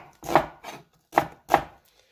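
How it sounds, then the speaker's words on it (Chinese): Knife chopping half an onion on a cutting board, four crisp close thuds in an uneven rhythm, the second softer, with no voices. "现在再切半个洋葱"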